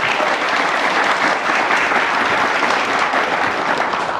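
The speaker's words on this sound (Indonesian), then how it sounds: "Tepuk tangan yang meriah." Dense, steady applause from a studio audience at a televised political debate-preparation show, a loud continuous wash of clapping from many hands with no voices over it.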